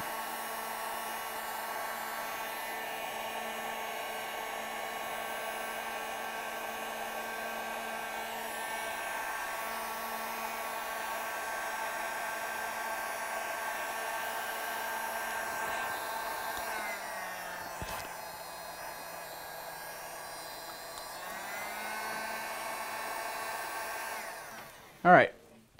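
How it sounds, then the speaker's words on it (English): A hot air blower runs steadily for a long stretch, heating and shrinking heat shrink tubing on a paracord zipper pull, with a constant whirring hum that shifts pitch slightly before a brief clunk at the end. "You want to apply heat to try to get both sides of the heat shrink tubing and just kind of everywhere there."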